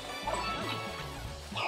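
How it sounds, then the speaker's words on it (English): Toad yipping like a dog in Super Mario 3D World, a string of short, quick yaps and whimpery barks heard under busy game sounds and crashes. "He's like yipping. Yeah, dog."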